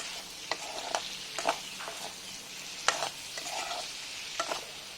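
Pork fries in its own rendered fat in a pan while a utensil stirs it, giving scattered scraping strokes over a soft, continuous sizzle, close and fairly quiet, with no voices.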